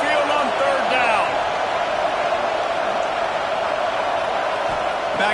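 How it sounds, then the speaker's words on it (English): Dense, steady roar of a home stadium crowd at Saban Field during a third-down play in a college football video game, Florida Gators at Alabama, swelling continuously under a commentator's voice. "The tide crowd rolling noise down onto Saban Field on 3rd down."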